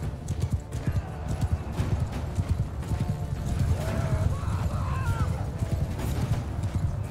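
Horses in the medieval battle game Mount & Blade 2: Bannerlord gallop in a dense, rapid clip-clop of many hooves, with neighing breaking through amid the din of a battlefield.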